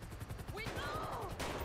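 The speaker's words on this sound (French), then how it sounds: "Ça vient d'où les tirs là?" Rapid bursts of gunfire in GTA 5 during a police patrol with a Renault Scénic 3, sharp repeated shots rattling over game noise while people talk.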